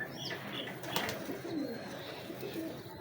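Old-breed pigeons of a 1980s lineage murmur faintly in a loft, with soft, low cooing and a few light rustles or flutters in the background.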